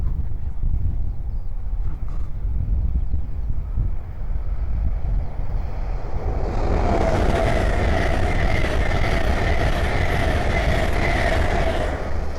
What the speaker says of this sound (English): we have a Hull train 800 coming down, going from Glasgow Central to London King's Cross